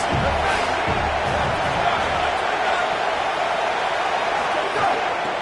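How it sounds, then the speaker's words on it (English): Football stadium crowd noise on a big third down in a Tennessee at South Carolina game, a steady loud roar of cheering fans sustained throughout with no clear breaks. "Big 3rd down as the crowd gets behind this defense."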